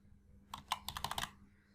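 A short burst of computer keyboard typing, roughly six or seven crisp keystrokes in quick succession, close and fairly quiet, with no speech.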